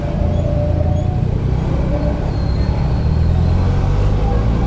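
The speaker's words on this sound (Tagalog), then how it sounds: "Tanghalin tapat, traffic." Midday road traffic on Susano Road in Quezon City, a steady broadband rumble of cars, buses and motorcycles that stays loud throughout with no clear gaps.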